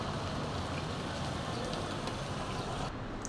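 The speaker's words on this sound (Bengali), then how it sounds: "সকাল থেকে বৃষ্টি পড়ছে।" Steady morning rain falls continuously, a dense, even hiss of drops on surfaces with no breaks, close and moderately loud throughout.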